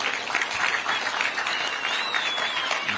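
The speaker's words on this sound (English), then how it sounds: "If you can't clap about this, I don't know what you're going to clap about." A crowd at the commissioning of a fertilizer and power plant in Zambia breaks into steady, dense applause, sustained and fairly loud throughout.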